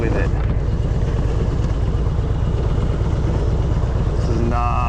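Motorcycle being ridden with a box strapped on and no working front brake: a steady, loud engine drone with heavy wind buffeting fills the whole stretch, close to the rider.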